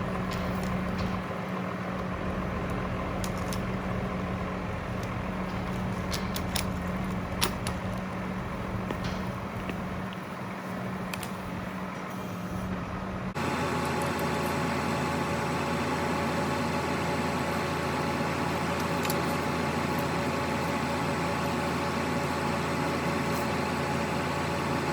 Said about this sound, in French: je vais juste la tirer plus loin avec le tracteur